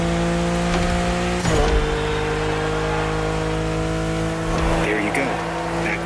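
The BMW M4 Liberty Walk Edition in The Crew Motorfest drones with a steady engine tone that shifts pitch partway through, loud and continuous, with someone talking over it.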